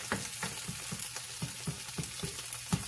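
Corned beef hash fries in a pan with a constant close sizzle, punctuated by regular scraping taps of a utensil moving through it, with no talk over it.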